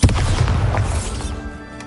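A Bombarda blasting spell goes off in Hogwarts Legacy, a single loud booming explosion that rumbles and fades over under two seconds.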